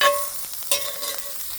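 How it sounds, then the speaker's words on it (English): Oyster mushrooms browning in a pan and being stirred, a steady close sizzle with a brief scrape of the spoon partway through. "Try to stir with my left hand."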